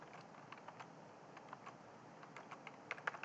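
Keys tapped on a computer keyboard while typing SQL code to create a database table, a steady run of light, close clicks that speed into a brisk cluster near the end, alone without talk.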